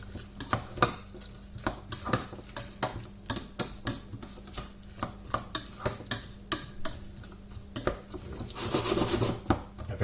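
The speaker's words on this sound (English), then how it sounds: "Alright, I'll mix that up." Shakshuka gets stirred in a pan with a quiet run of repeated scraping and rubbing strokes, each ending in small ticks, and no voices over it.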